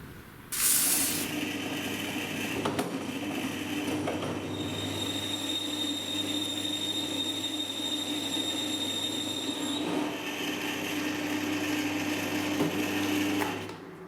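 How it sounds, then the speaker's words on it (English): A power drill runs continuously for over ten seconds, a steady high whine with grinding as it bores into the metal of a quick release vice, then stops. "Try drilling it out to 20."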